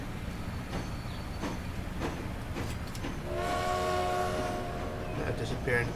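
A passenger train pulls away from the station in the Transport Fever simulation game, with steady rolling rumble and a sustained horn-like tone partway through, and a voice talking faintly underneath.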